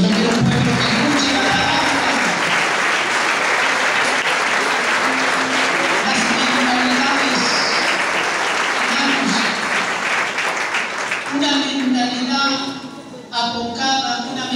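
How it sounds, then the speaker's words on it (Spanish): Applause from a church congregation during a Spanish-language sermon in Zacualtipan, sustained and broad across most of the stretch, then thinning out near the end. "¿Cuánto le pueden dar un aplauso a Cristo?"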